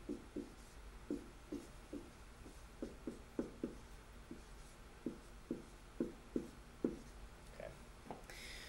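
Marker or chalk strokes on a classroom board during a math lesson, a steady series of short scratchy taps and squeaks repeating roughly every half second, close and clear with no talking.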